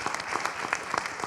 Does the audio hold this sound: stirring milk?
no